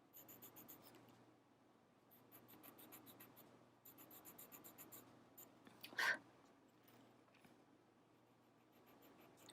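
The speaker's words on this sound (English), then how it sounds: "really work that chalk into the paper" Chalk worked firmly into a paper Zentangle tile, a quiet continuous scratchy rubbing that runs throughout at close range, with one brief louder scrape near the end.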